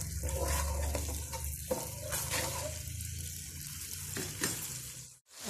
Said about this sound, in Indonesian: Okey, dah menggelegak ya.